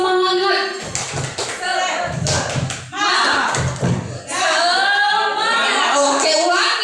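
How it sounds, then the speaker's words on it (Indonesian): A classroom group claps in a quick rhythmic pattern, several bursts of claps in succession, mixed with loud voices chanting along. "Tepuk semangat"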